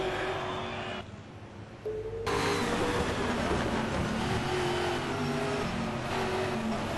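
Touring race cars at Pukekohe roar steadily with close, loud engines revving and shifting through gears for the full stretch, one engine note briefly dropping before surging back up.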